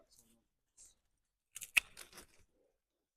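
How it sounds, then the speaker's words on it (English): Pruning shears snip the thick roots of a large Chinese quince during repotting, a few faint sharp cuts and clicks clustered together, with quiet handling before. "I will cut the thick roots off."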